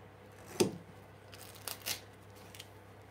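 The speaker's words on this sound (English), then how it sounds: "I'm just going to trim" Scissors trim the end of a strip of material over steel prepared for electro etching, with a sharp snip followed by a few quieter cuts and rustles close by in a quiet room.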